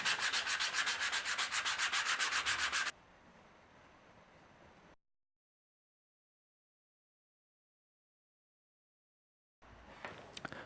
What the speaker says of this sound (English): After the whole thing was dried, I sanded it down and applied a second layer.